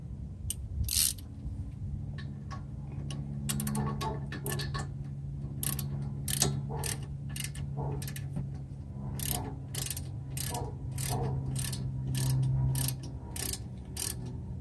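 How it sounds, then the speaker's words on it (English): A hand wrench tightens 12mm bolts on a 2005-2009 Mustang front brake caliper. Crisp ratcheting clicks come in short, close bursts, with a faint low hum running underneath. "Tighten this up a little bit first before I torque it."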